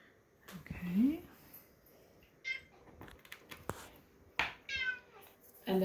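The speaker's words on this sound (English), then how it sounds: "And there's Jamie's kitty" A cat meowing softly indoors, a few short faint meows scattered among quiet, close whispered talk.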